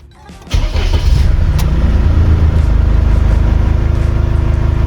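A Mercedes C220 CDI diesel engine, just back from a turbo repair, starts with a short crank and then runs at a loud, steady, close idle with a slightly rough, rhythmic throb.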